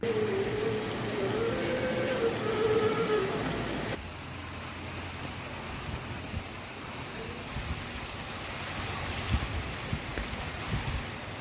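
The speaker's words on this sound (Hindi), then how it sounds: "बारिश भी शुरू हो गई है।" Steady rain falls during Cyclone Biparjoy in Dwarka, Gujarat, a broad continuous hiss with wind noise buffeting the microphone, loud and unbroken throughout with no speech.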